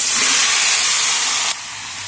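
Vegetables dropped into hot cumin and garlic spice paste in a pan, a loud steady sizzling hiss that drops a little toward the end.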